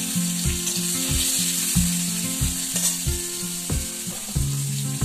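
Potatoes and onion fry in a pan with black cumin, a steady sizzle running under a rhythmic scraping and tapping of a spatula stirring against the pan.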